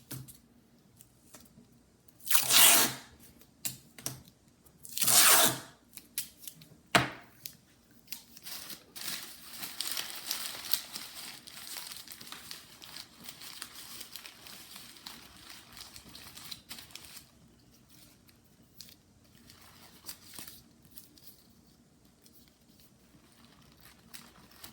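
Paper crumpled and pressed onto a clay bust armature, with two loud crinkling bursts near the start and then a softer, continuous rustling and crackling of paper being worked close by.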